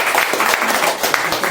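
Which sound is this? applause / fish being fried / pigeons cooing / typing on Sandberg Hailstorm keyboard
applause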